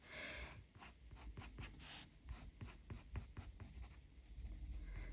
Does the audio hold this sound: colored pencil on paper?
yes